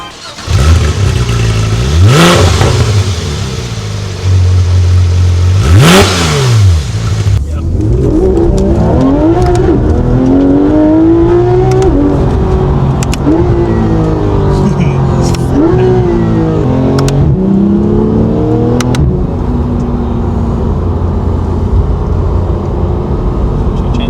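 Porsche 991.1 GT3 RS engine revving hard while driving on the road, with two sharp rising revs early, then a continuous loud engine note with repeated rising and falling pitch sweeps from shifts on the paddles.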